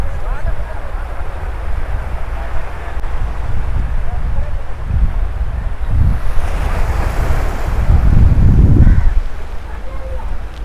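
Sea waves wash against a stone-bordered shore at Uran beach in Navi Mumbai, with a steady roar of surf. Strong wind buffets the microphone, and the gusts grow heavier toward the end.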